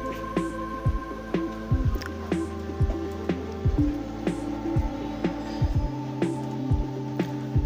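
A sewing machine stitches along the edge of a school shirt, running in repeated short bursts with a low hum and a steady mechanical throb, pausing between runs, close and without talk.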